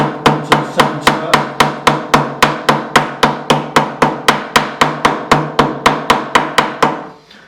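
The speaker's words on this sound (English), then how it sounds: "take the fret, hammer the edges down" Steady, evenly spaced hammer taps on the edges of a fret seated in a guitar neck during a partial refret of a Japan-made Aria LW12HB acoustic, about twenty-two sharp metallic knocks in a regular rhythm, close and loud with no talking.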